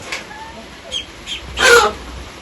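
Seven ducklings peep and cheep in short scattered calls close by, one louder chirping burst near the end.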